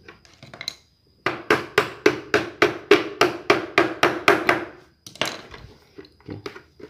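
A metal helmet strap pin, struck with a screwdriver on an iron base, gives about a dozen sharp, evenly spaced metallic taps up close, with a few lighter knocks before and after.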